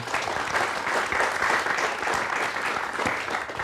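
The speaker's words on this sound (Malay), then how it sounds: "Kita berikan tepukan" A studio audience at a televised dialogue applauds to welcome a guest, giving steady, dense clapping from many hands throughout, moderately loud and close, without voices.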